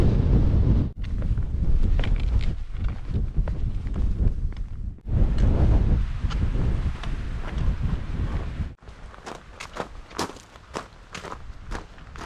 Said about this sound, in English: It's a bit breezy, but I'm so glad it's clear.